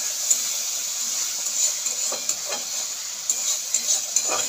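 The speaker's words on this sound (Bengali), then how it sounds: "মশলাটা একটু এমন ভাজা ভাজা হচ্ছে।" Spice paste, including Kashmiri chilli powder, frying in a pan with a soft steady sizzle and occasional light stirring scrapes and taps, quiet and close.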